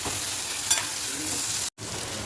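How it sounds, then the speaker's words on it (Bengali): Chopped onions, salted, fry in a pan until reddish-brown for a Bengali prawn-head paste dish, giving a steady close sizzle with a brief stir scrape and a short drop-out near the end. "দিয়ে ভালো করে লাল লাল করে পেঁয়াজটাকে ভেজে নেব।"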